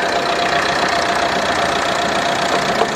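A Citroen 1.6 turbo diesel engine runs steadily with the hood open, a loud, continuous close-up drone with a faint knocking texture and no voices.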